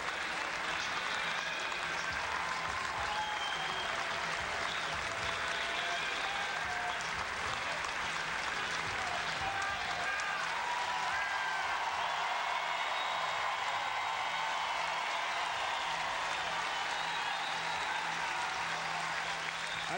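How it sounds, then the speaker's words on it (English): Sustained applause from a baseball stadium crowd at an LSU versus South Carolina game, steady and dense for the whole stretch, with faint voices and cheers mixed into the clapping. "Some of the people who are not even LSU faithful are standing and applauding that effort"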